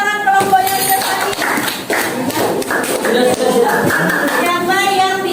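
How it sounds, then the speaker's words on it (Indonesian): Pupils in a classroom clap for a group after a science activity on conductors and insulators, a dense, lively patter mixed with children's voices and talking throughout. "Oke, kita beri tepuk tangan kelompoknya sudah tadi."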